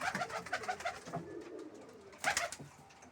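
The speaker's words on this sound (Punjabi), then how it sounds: "ਆ ਥੱਲੇ ਬੈਠੇ ਆ ਕਬੂਤਰ" Pigeons kept for sale sit low in a box, giving a run of soft, throaty coos close by that repeat in uneven pulses, with a louder burst near the end.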